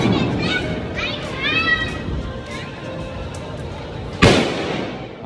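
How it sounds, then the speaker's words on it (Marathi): Children set off firecrackers outdoors, with a sharp loud bang near the end over background chatter and kids' voices. "इथे पोरं आपली मस्त की फटाके वगैरे फोडतात आहे."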